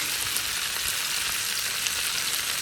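Food fries in olive oil on a Blackstone griddle, a steady close hiss and sizzle with faint crackles throughout and no talk.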